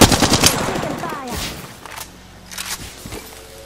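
Automatic weapon fire in the video game Apex Legends rattles loud and close in a rapid burst at the start, then sparser shots, thuds and footsteps follow more faintly.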